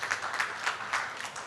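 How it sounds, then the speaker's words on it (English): A workshop audience applauds a panel, brief quiet clapping with a few distinct claps standing out. "A round of applause for them, please."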